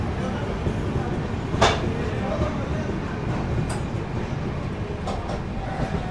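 Passenger train 12295 from SMVT Bengaluru to Danapur runs out of Nagpur Junction with a constant heavy rumble and rattle from inside the carriage and a few sharp clicks, while a person talks over it.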